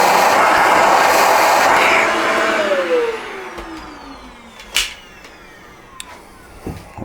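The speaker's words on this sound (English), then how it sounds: "And we're gonna get that out as well with the vacuum cleaner." A vacuum cleaner sucks leftover coffee out of a Breville coffee maker with grinder, a loud close roar with a falling whine that fades, then a few sharp clunks and rattles near the end.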